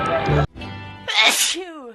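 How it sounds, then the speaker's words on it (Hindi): A person gives a loud, close sneeze. Speech comes before it, and a short voiced trail follows. "कुछ इस तरह छींका जाता है, अच्छू"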